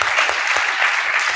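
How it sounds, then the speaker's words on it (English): Theater audience applauding at a season celebration, a dense steady burst of clapping close by, filling the whole moment without speech. "So we can give them a round of applause"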